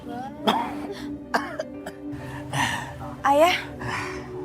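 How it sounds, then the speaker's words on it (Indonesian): A person coughs and clears their throat several times in close, harsh bursts, with strained breathy sounds between them. "Ayah kok batuk-batuk terus sih?"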